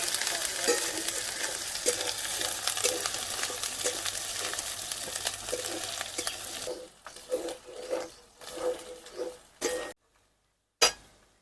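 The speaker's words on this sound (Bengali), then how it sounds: "পেঁয়াজের সঙ্গে একসঙ্গে ভালো করে ভেজে নেব যতক্ষণ রসুন আর আদার কাঁচা গন্ধটা না বেরিয়ে যাচ্ছে" Onion, garlic and ginger paste fry in a pan for a Bombay duck dish, a loud steady sizzle at first, then scattered stirring scrapes and clinks of the utensil as the frying noise drops away.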